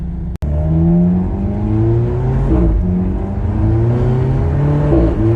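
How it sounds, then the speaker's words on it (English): An Alfa Romeo's exhaust barks loudly as the engine revs up in several rising pulls, each climbing in pitch before easing off, close by and without talk. "Wow, that exhaust is crazy."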